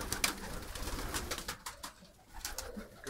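Baku broad-tailed pigeons coo softly in a loft, with repeated low, rolling calls layered through the clip and no talking.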